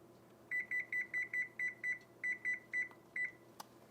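An oven used for roasting a turkey gives a close, clean run of about eleven short electronic beeps in quick regular succession with one brief gap. The beeps sound as the temperature is raised, over a quiet kitchen hum.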